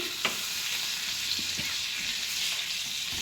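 Masala-coated fish sizzles steadily in a pan on the stove, with a few quick stirring or spatula clicks over the constant frying hiss, close and alone.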